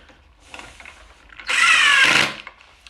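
A power drill whirs in one steady, loud burst of about a second, driving a long screw into the wood of a homemade planner and craft table, with quieter handling clatter before and after.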